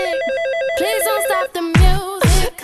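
A telephone rings with a loud, close melodic ringtone, a repeating stepped pattern of electronic tones that gives way to brighter tonal bursts.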